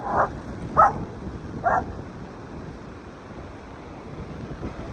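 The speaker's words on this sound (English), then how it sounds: "Look at this wind, you guys." Wind blows steadily outdoors on Coronado Island as a broad, constant rush buffeting the microphone, with a few brief louder thumps near the start.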